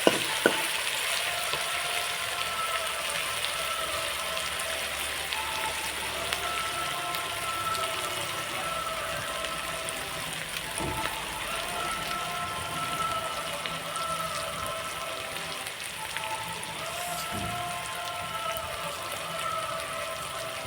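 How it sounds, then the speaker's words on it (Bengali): Ginger-garlic paste frying in a pan for a Bengali country chicken curry, a steady soft sizzle and crackle with occasional sharper pops, close and even, with no talking. "আদা রসুনের কাঁচা গন্ধটা যতক্ষণ না যাচ্ছে ততক্ষণ অবধি ভেজে নিতে হবে।"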